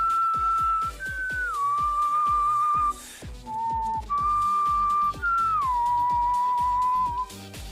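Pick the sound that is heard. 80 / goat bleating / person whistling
person whistling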